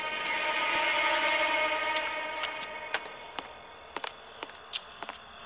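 A steady mechanical hum like a moving train with sharp clicks and rattles scattered on top, no voices, from a train attraction in the game Death Run.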